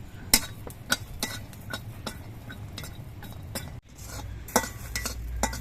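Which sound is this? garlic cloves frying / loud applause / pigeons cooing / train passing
garlic cloves frying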